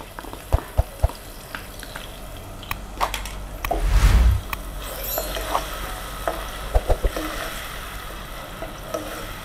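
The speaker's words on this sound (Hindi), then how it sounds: "प्याज हमारी फ्राई हो रही है" Ground onions frying in a quarter cup of oil for a mutton qorma, steady close sizzling with occasional stirring scrapes and a louder burst midway.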